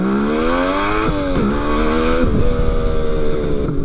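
Suzuki GT550 two-stroke triple motorcycle engine on a ride, loud and close, its buzzy harmonic note rising through the revs, dipping at gear changes around one and two seconds, then climbing again.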